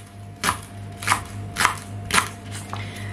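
A knife slices a leek finely on a cutting board, giving five crisp, evenly spaced cuts at a steady rhythm over a low background hum.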